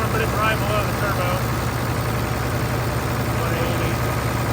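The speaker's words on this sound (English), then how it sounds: "it's running pretty good. So I'd say this thing's a healthy old tractor for sure." An old IH 1206 tractor engine runs under load on a dyno, giving a steady, loud, low drone throughout with no break in its rumble.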